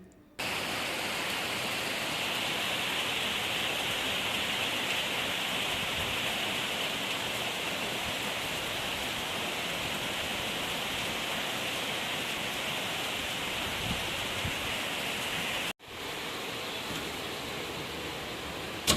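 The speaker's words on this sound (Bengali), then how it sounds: "একটু বৃষ্টির আওয়াজটা উপভোগ করি" Steady rain pours in a dense, even hiss that continues unbroken for a long stretch, briefly dropping out near the end before resuming.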